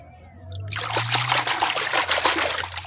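Clean water pours and splashes over muddy toys: an animal tanker truck, a zebra, camels and small cars. A steady close trickle and splatter runs continuously after a quiet start, with a low hum underneath.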